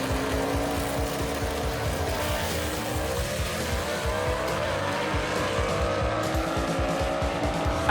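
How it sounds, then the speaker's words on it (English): Gasser-class drag race cars roar together in a continuous loud engine drone, with throbbing low exhaust pulses and faint tire squeal as they accelerate hard down the strip. "This ought to be a good drag race."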